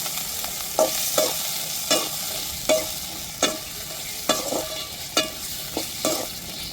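Constant hiss of onions and tomatoes sizzling in oil in a pan, punctuated by a regular series of scraping knocks as a spoon stirs the frying contents, no speech.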